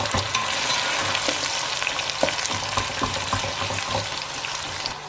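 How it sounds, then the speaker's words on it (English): Onions hit hot oil in a pan with a steady, full sizzle, broken by occasional stirring clinks and scrapes, close and alone without any voice. "Alright, oil's nice and hot. In you go onions."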